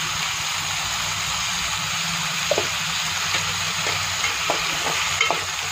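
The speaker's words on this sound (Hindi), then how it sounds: "अच्छे से मिक्स करेंगे।" Pumpkin with salt and turmeric stirred in a hot pan gives a steady loud sizzle, with a few light scrapes of the spoon scattered through it, close by and with no talking.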